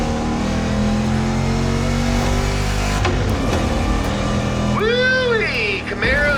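A Ford GT500 engine revs in The Crew Motorfest racing game, a sustained mid-pitched roar that rises and falls, with sweeping tonal game sounds near the end.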